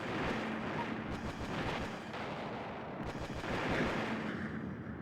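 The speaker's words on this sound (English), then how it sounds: "I tend to use pulse cannons on the walkers whenever I can get away with it." Pulse cannon fire against walkers in the Battle Engine combat video game, a rapid run of heavy booming blasts and rumbling impacts, loud and dense throughout.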